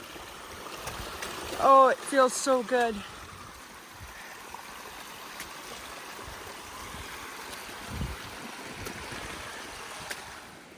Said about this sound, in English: This creek is now my trail.